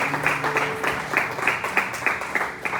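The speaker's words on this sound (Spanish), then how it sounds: "Vamos a darle un aplauso al Señor por cierto sus palabras." Applause for the Lord at a women's church gathering, a steady wash of many hands clapping with rhythmic pulses, moderately loud and close, with no speech over it.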